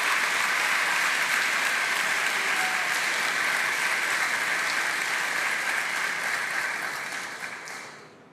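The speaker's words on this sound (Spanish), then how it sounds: "Por si no se escuchó por los aplausos" Lawmakers in a parliamentary chamber give a long, thick burst of applause during a speech at the opening of ordinary sessions, steady and full before fading away at the close.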